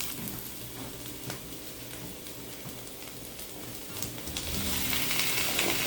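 Spam added to caramelized onions in a frying pan, a soft continuous sizzle that swells louder near the end, close and moderately quiet, no voices.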